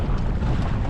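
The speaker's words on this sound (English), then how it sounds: "strong west to east winds today" Strong west-to-east wind buffets a canoeist on a lake in Wabakimi Provincial Park, heard as a dense, loud, continuous roar of wind noise and water over a single second with no speech.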